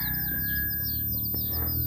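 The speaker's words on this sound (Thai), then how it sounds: "ไก่น้อยบ่มีแม่" Motherless baby chicks peep in a small Thai home garden, a steady run of high, rapid chirps overlapping one another at close range, with low background rumble and no talking.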